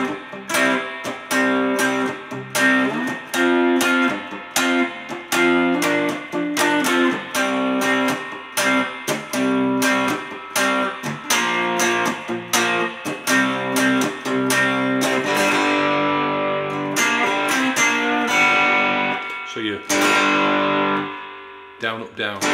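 An electric guitar plays the verse of a song and then moves into the chorus, with steady strummed chords and a driving, slightly distorted rhythm heard up close. No one speaks over it.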